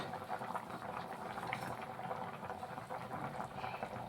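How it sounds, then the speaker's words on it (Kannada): Water boils steadily in a pot for chicken biryani, a continuous soft bubbling and hissing that stays even and fairly quiet throughout. "ಕುದೀತಾ ಇದೆ ನೋಡಿ ನೀರು"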